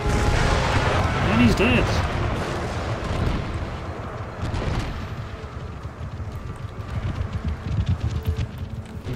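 Artillery fire in the video game Empire: Total War, heavy booming cannon blasts and rumbling battlefield noise, loud at first then settling, with someone talking over it.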